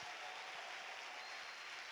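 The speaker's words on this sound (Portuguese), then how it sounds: "Vamos aplaudir o nosso Deus." Church congregation applauding during a worship service, a faint, steady wash of clapping heard from a distance with no pauses.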